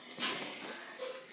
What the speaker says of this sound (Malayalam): നല്ലോണം തിളച്ച് വന്നിട്ടുണ്ട്.